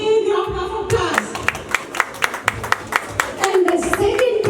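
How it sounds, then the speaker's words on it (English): Scattered hand claps at a community police appreciation awards event, a handful of sharp individual claps spread unevenly over a low murmur of voices and room noise. "Please give him a big round of applause."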